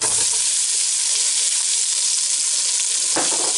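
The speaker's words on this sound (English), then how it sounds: "And then I'm going to whack the onions in" Sliced onions fry in a pan with a loud, continuous sizzle, close and unbroken, with a brief clatter near the end.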